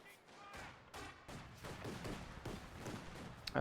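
Game gunfire from Company of Heroes 2, with grenadiers under fire from a Panzer II: bursts of shots and dense volleys run throughout, getting louder toward the end, with a voice faintly mixed in.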